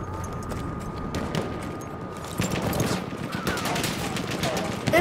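Battlefield 1 battle gunfire: rapid volleys of rifle and machine-gun shots mixed with distant booms, dense and continuous, with voices shouting amid the combat.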